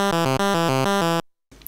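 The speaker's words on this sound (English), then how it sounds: "And what you're hearing is the Mother 32." A Moog Mother 32 synthesizer played through both filters in parallel, its oscillator pitch driven by CV from an Arturia MatrixBrute, gives a bright, buzzy, harmonically rich tone pulsing in a rapid steady rhythm, loud and close, then cutting off abruptly.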